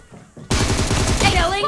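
An AKM rifle firing in PUBG Mobile: a sudden, loud burst of rapid automatic shots in quick succession, close and sustained after a quieter moment.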